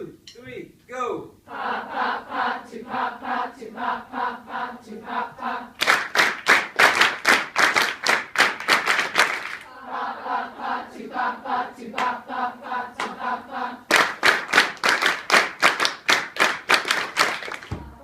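Group of people in a drum class chanting in unison and clapping along to a steady rhythm, voiced phrases alternating with sharp sections of loud, evenly spaced handclaps, repeated twice.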